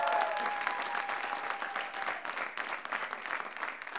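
A studio audience at a television comedy show claps loudly and steadily for about four seconds, easing off slightly toward the end.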